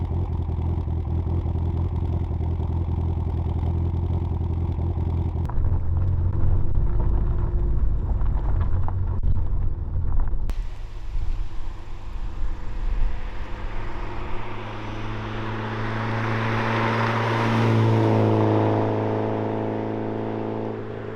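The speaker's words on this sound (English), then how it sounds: "I'm sure you guys want to hear the car running." A 2003 Mitsubishi Lancer Evolution VIII runs close by, a steady idle drone shifting with clicks and a sharp change, then a rising rev swelling and settling back, with no talking.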